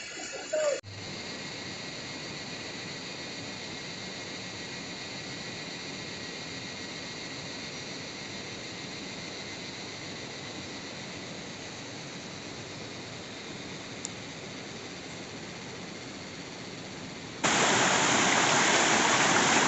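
Mintok Khola, a mountain river stream on the trek toward Yuksom and Goechala, rushes steadily beneath a cement bridge, a dense continuous roar throughout that grows louder and brighter near the end.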